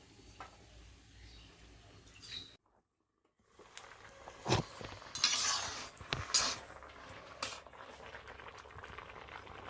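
Food bubbles and boils in a cooking pot with a steady, quiet simmer. A brief silence breaks it, and a few light clinks and pops follow.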